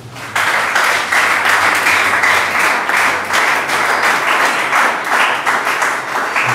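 A church congregation applauds together, steady dense clapping that starts abruptly and holds loud and even, with no one speaking over it.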